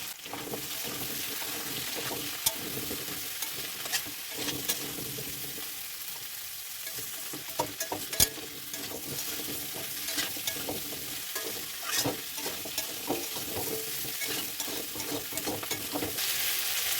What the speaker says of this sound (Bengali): দিয়ে ভালো করে সবজিগুলোকে ভাজা ভাজা করে নেবো।